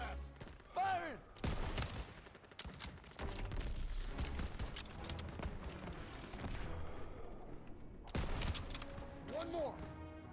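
An anti-aircraft gun fires in a Call of Duty WWII battle, with sustained heavy bursts and booming blasts mixed with battlefield noise, rising and falling across the scene.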